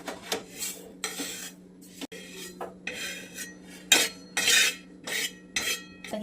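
Roasted sesame seeds being scooped out of a pan for Makar Sankranti tilgul chikki, heard as close, repeated metallic scrapes and clinks against the pan under a steady low hum.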